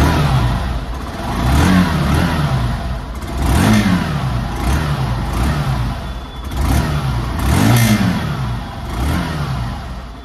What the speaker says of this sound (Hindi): तो पहले इसका साइलेंसर का साउंड सुनाते हैं।